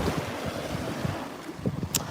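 Big waves roll in on a wintry Seattle shoreline with continuous rushing surf and gusting wind buffeting the microphone, with several heavier surges breaking close by.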